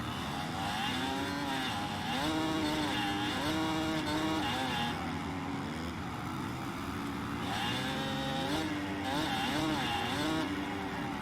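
A Yamaha YZ 250 two-stroke dirt bike with an FMF exhaust in the Monster Energy Supercross 6 video game whines steadily at high revs, rising and falling with repeated throttle blips and shifts over a continuous loud drone.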